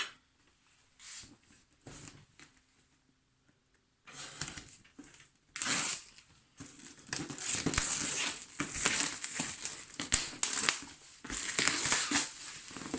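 A cardboard box of an Age of Sigmar miniatures game is opened indoors: quiet scattered handling at first, then louder, sustained crinkling and crackling of wrapping close to the microphone, with no talking.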